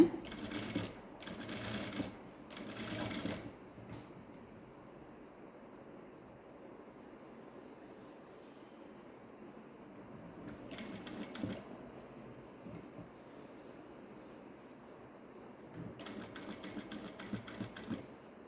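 A sewing machine stitches a blouse in short rapid runs, with a few bursts at the start, one midway and a longer run near the end, separated by quiet gaps with faint background sound.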